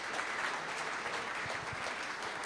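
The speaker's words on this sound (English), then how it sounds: "All right, another round of applause." Audience applause at a live science comedy show, a steady dense wash of clapping that fills the whole stretch at moderate level with no talk over it.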